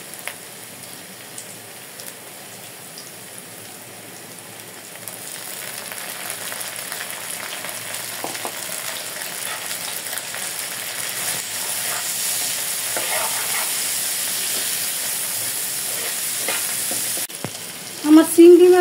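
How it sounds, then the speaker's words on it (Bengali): Small prawns sizzle steadily in hot oil with onion and garlic while being stirred, the crackle swelling slightly midway, with a brief metallic clank near the end; no voices. "আমি এই পর্যায়ে করে চিংড়ি মাছ দিয়ে দেব"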